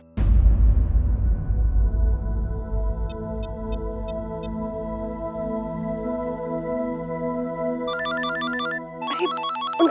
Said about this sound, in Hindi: अरे उनके घर से ही फोन है।